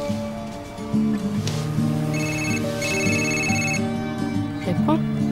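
A telephone ringtone plays a repeating melodic electronic pattern, loud and steady for several seconds, with a faint background hum beneath it.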